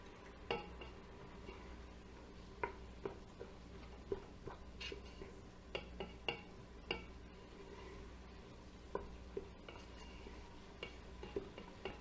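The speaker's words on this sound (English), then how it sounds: "Give it a good stir." Onions being stirred in a cooking pot with salt and black pepper, giving a soft steady sizzle broken by a series of sharp scraping clicks from the spoon at irregular intervals, close and fairly quiet.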